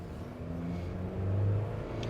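A 1998 Toyota Tacoma 4x4 with the 2.7 engine accelerates, its low, steady engine drone swelling slightly toward the middle as it pulls, heard from inside the cab with no talking.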